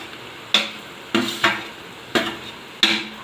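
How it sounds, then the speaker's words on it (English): Brinjal stirred in a pan while cooking Kathiyawadi oolo: five sharp clacks and scrapes of a spoon against the pan, spaced unevenly, each fading quickly over a faint steady background. "And then we'll be adding brinjal or eggplant."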